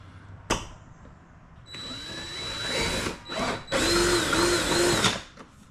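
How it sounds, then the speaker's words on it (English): Close power drill whirring in several bursts while installing an aero splitter, the motor whining and rising as it bites, separated by short pauses and a click. "So now get your drill as soon as you have it all lined up"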